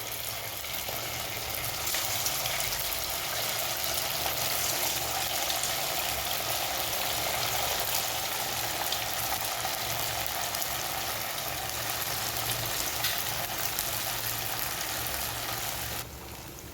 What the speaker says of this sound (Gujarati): તેલ ગરમ થઈ ચૂક્યું છે હવે આપણે તેની અંદર આપણે બનાવેલી ફ્રેન્ચ ફ્રાઈઝને મૂકી દઈશું